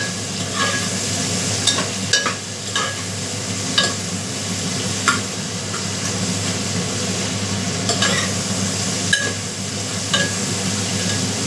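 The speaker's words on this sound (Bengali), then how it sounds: "পেঁয়াজগুলো ভাজতে দিয়ে দিলাম।" Onions fry in a pan with a steady, close sizzling hiss, broken by occasional light clicks and scrapes of stirring, and no talk.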